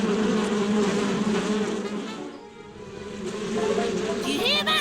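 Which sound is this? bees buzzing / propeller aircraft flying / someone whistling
bees buzzing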